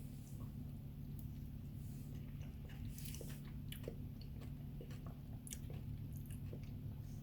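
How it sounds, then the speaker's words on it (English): Close, steady chewing of a no-cook keto fat bomb made with an electric mixer and chocolate, soft crunchy bites and mouth sounds repeating over a continuous low hum, with no talking. "I'm just gonna taste it now."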